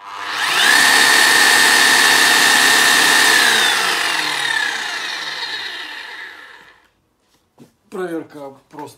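A Bosch rotary hammer drill runs in rotation and hammer mode with a loud, steady whining roar, then winds down and stops; someone speaks briefly afterward.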